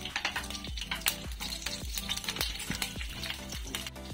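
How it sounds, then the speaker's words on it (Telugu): Chopped vegetables, green chillies and cumin sizzle in hot oil in a pan, with a steady frying hiss broken by regular stirring scrapes roughly every half second, close and fairly loud, with no talking. "మనము ఈ వెజిటేబుల్స్ని ఆయిల్లో కొంచెం ఫ్రై చేసుకోవాలి. మనం ఇప్పుడు ఫ్రై చేసేసుకుందాం."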